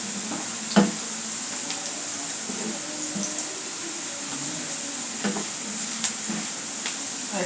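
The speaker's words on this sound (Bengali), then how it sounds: "ভালো করে পেঁয়াজ মরিচ রসুনগুলো ভালো করে ভেজে নিয়ে" Onion, chili and garlic frying in a pan for taro stem bhaji, with a constant crackling sizzle, a few sharp utensil knocks and light stirring scrapes, close and unaccompanied by speech.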